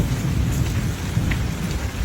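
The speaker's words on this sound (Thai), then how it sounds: "ฝนตกครับพี่น้อง" Steady rain pours down outside a small house, a dense continuous hiss of drops close by with no voices.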